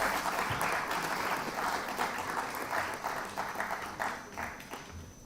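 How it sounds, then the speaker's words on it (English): Applause from an audience at a national financial literacy quiz greeting a university team as it takes the stage, steady dense clapping filling the room throughout without a break. "Give them a round of applause"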